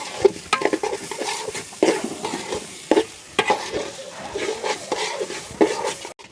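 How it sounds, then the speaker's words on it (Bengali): Rice for chicken biryani fries in a pan, with repeated rhythmic scrapes and sweeps of a spatula over a soft, steady sizzle. "আমার এক পাশে হচ্ছে চিকেন, আর এক পাশে আমি চালগুলো ভেজে নিচ্ছি।"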